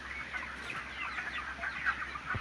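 Chickens clucking on a poultry farm holding 33-day-old birds with high mortality, a dense, continuous chorus of overlapping clucks at moderate distance.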